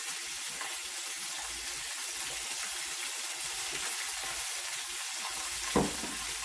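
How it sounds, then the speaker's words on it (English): Catfish frying in hot oil, a steady broadband sizzle running throughout with scattered small pops and one louder crackle near the end; close and continuous with no talking. "It's starting to sizzle and pop now."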